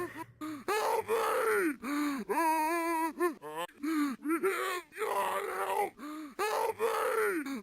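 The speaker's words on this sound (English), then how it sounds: "The normal zombies you frequently encounter in the game usually make some strange howling noises." Eerie, warbling vocal groans and gasps, a video game zombie's howl played in reverse, distorted and unnatural, in continuous bursts with brief pauses.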